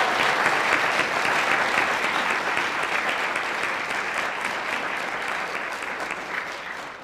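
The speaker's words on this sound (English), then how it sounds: "I think we should give the new inductees one more round of applause." Sustained applause from an audience at a National Honor Society induction ceremony, a dense, even wash of clapping that holds steady for about seven seconds and tapers slightly at the end.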